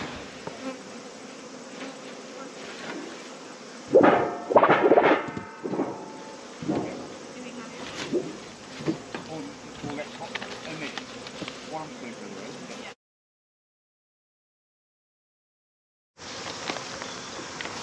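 Many honey bees buzz steadily and close by at a hive during cloak board removal, with some knocks and handling sounds, then a brief silence before the buzzing resumes.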